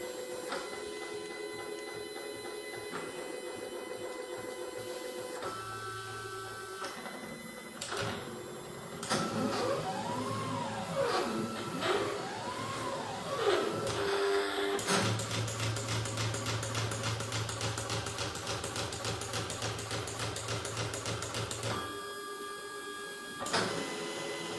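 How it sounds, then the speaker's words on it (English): A computer-controlled cutting machine runs through its job cutting out a finished piece, giving steady mechanical whirring and stepping motor sweeps with rising and falling tones, alone and fairly loud throughout. "the machine jumps into action, and we'll cut out the final product."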